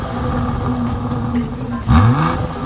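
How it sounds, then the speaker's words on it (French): A 2018 BMW 440i Gran Coupe engine hums steadily, then gives a brief rising rev near the end, moderately loud and heard from inside the car. "Le moteur et la transmission se sentent et sonnent comme une voiture de sport"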